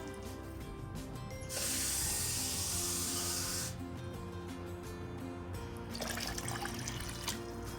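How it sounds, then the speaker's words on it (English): Water gushing from a tap into a blender for juice in a burst of spray lasting about two seconds, followed by quieter clinks and a second brief splash. "Add 2 cups of water, and then we're going to blend."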